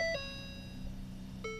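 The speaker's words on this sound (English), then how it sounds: "Ford calls them chimes." Ford car interior alert chime: a clear two-tone electronic ding at the start, a sustained tonal hum, then another chime near the end, close and fairly loud with no talk.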